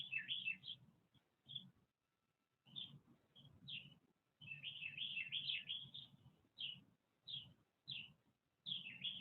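Sparrows, a Carolina wren and chickadees chirp outdoors in spring in short bursts of bright, high twittering, separated by brief quiet gaps, fairly close and clear with no voices.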